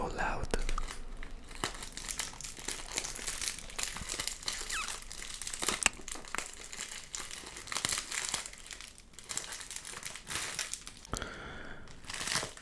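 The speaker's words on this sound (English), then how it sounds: "I don't want to make this crinkle sound so it's just so annoying" Plastic packaging around silicone cup covers crinkles and rustles close to the microphone during an unboxing, in dense, uneven bursts, with soft talking at times.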